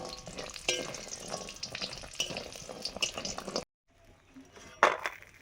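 Lentil dumplings (bori) fry in oil, sizzling and crackling with scraping stirs, then a short silence before quieter sizzling resumes with a sharp clink.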